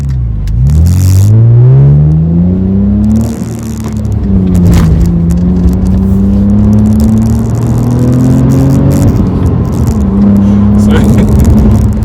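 A 2008 Acura TL with a manual gearbox revs its VTEC engine through rising acceleration, the engine note climbing, dipping at a shift and climbing again, loud and close from inside the car.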